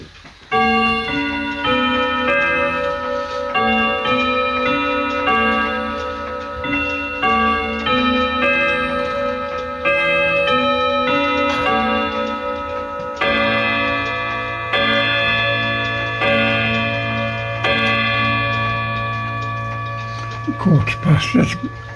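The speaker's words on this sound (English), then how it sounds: "it's chimes on the hour now." Antique French grandfather clock from 1930 chiming on the hour, a loud melodic sequence of resonant chime tones followed by a low sustained hum, with a person speaking briefly.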